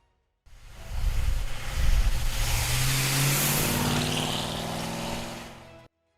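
A 1970 Ford Torino King Cobra's 429 Cobra Jet V8 roars up loudly and close. The deep, rumbling rev swells and is held for several seconds, then cuts off abruptly.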